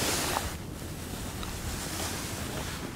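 Wind gusting across an open fishing lake, a steady broad rushing and buffeting against the microphone, close and continuous with no talking.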